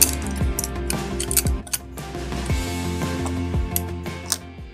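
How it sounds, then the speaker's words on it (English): Wrench tightening a nut on a curtain rod bracket, producing a series of small metallic clicks and ratcheting taps at an uneven pace, close and moderately loud. "I'll take my wrench, place it on the nut."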